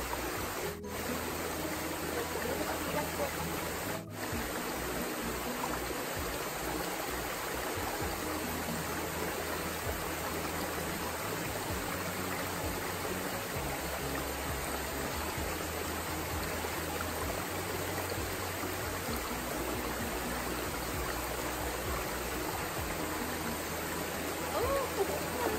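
Busay waterfall and stream in Balicotoc, Philippines, a steady, dense rush of falling and flowing water that holds evenly throughout, close and full, with a couple of brief knocks near the start.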